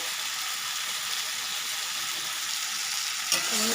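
Food frying in plenty of oil, a loud continuous close sizzle with soft scraping as it is stirred in the pan and a brief clatter near the end.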